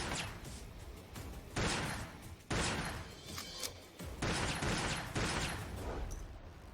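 Several sharp, heavy sniper gunshots in a dramatic action scene, four or five loud broadband blasts spaced about a second apart with short booming tails, with no talking.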